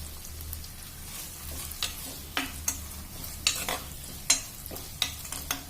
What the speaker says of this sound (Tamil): சீக்கிரமா இந்த வெங்காயம் எல்லாம் வணங்கி வந்துடும்